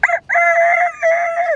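A Kashmiri child mimics a rooster's crow with his voice: a short opening yelp, then a long, wavering, high-pitched call, close and clear.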